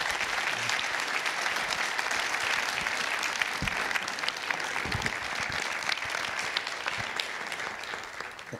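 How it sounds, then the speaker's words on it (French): An audience applauds warmly as a guest is welcomed on stage, dense steady clapping that holds at an even level throughout before easing slightly at the very end. "Et je vous demande d'applaudir chaleureusement Monsieur Michel Chapoutier."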